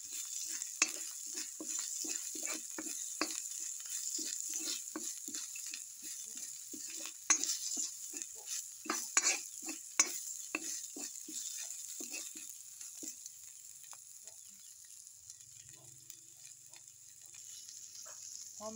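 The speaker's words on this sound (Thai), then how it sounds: "หอมแดงลงไปขั่วให้มันหอมก่อน" Shallots are stir-fried in a pan for a spicy Lao pork-blood stir-fry, a steady sizzle and hiss running throughout, with frequent scraping and tapping of a spatula against the pan.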